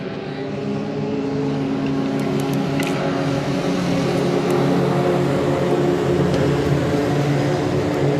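Legend race cars on the oval at Redwood Acres Raceway during a main event, their engines forming a continuous loud roar that holds steady throughout with no speech.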